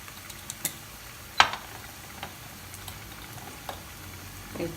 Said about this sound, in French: j'ai fait revenir mes oignons